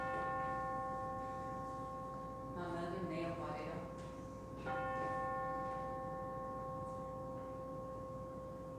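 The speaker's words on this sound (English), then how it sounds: "Philip's going to strike a bell for each name that we lift up" A single bell is struck during a church All Saints Day service, ringing with a clear, sustained tone that decays slowly, then sounds again, while voices murmur softly around it.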